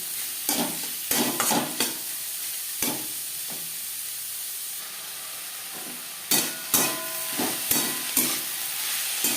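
Five or six finely chopped onions fry in a pan, a steady sizzle broken by repeated scraping stir strokes in bursts, loud and close with no voices.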